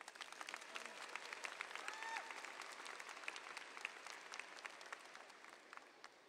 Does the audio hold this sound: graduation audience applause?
yes